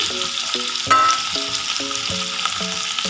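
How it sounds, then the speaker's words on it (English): Ginger, corn, paneer and capsicum sautéing in a pan, a steady close sizzle with repeated rhythmic scrapes of a spatula stirring, no voices. "And saute it."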